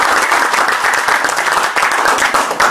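Applause from a seminar audience, a dense, loud, steady patter of many hands clapping throughout.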